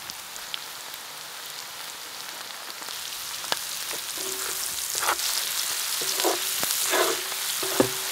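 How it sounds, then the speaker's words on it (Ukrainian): Pork belly fat with chopped onion frying in a pan: a steady close sizzle with crackling pops, growing louder and denser partway through, with occasional stirring clinks and scrapes and no talking. "Коли підчеревина трішки підрум'янилася і випустила жиру, кидаємо до неї нарізану цибулю і продовжуємо готувати до напівпрозорості цибульки."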